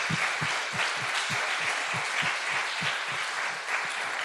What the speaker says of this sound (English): the next applause is actually to all of you